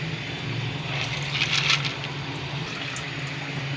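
Masoor dal (red lentils) tipped into a pot of spiced khichuri base, a brief soft rush in the middle over a low steady hum, faint and with no speech.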